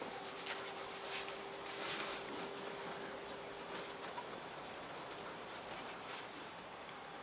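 Steady hand rubbing of rubbing compound into the paint of a 1998 Ford Contour, a continuous close scrubbing texture with no talk over it.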